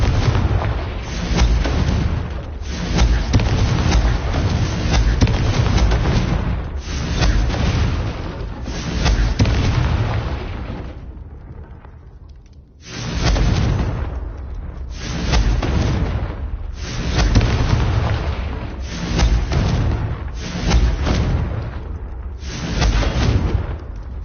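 Confringo blasting spell explosions in Hogwarts Legacy, a rapid series of loud, booming blasts in quick bursts, nearly continuous apart from one short lull midway, close and heavy.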